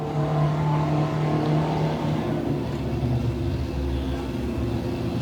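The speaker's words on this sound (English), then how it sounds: "James McIntosh, I believe, is the car that just went by" A race car on an enduro track gives a loud, sustained engine drone that holds steady and then shifts in pitch as it moves along, with no voices over it.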